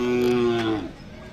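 A single loud, close moo from a Hallikar–Khillar cross cow at the Sangola cattle market, a sustained low call lasting under a second before fading.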